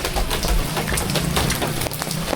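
Steady rain patters on a tent, a loud, dense hiss with scattered individual drop taps, close and continuous with no talking.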